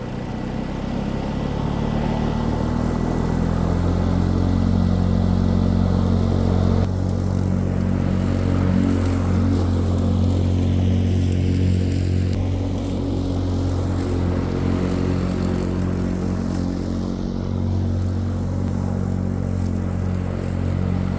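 WORX Nitro 40V battery push mower running steadily, a continuous even motor hum with whirring blade noise, constant and fairly close throughout with no talking.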